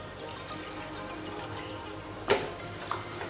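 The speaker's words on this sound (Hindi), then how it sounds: "और अब इसमें हम लोग 2/3 कप पानी डालेंगे।" Water is poured into a pan of masala gravy, a faint, steady liquid trickle with a brief louder splash partway through.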